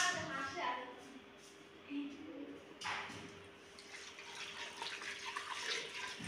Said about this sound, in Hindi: चलिए मैं अपना पानी डाल देती हूँ